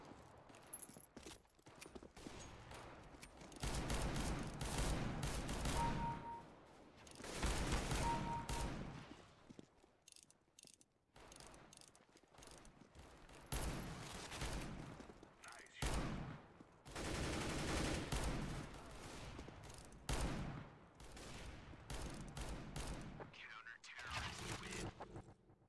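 Gunfire from the R8 Revolver in the video game CS:GO: bursts of sharp shots and clusters of rapid fire separated by quiet gaps, moderately close, with other in-game sounds between volleys.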